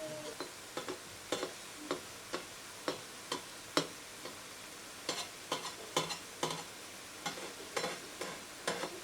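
Jackfruit mulka bonda deep-fry in hot oil, a faint bubbling hiss broken by sharp, regularly spaced pops and spatters, close by with no voices.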